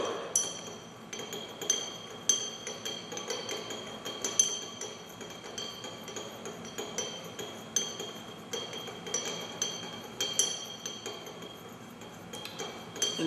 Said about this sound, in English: And stir that with the glass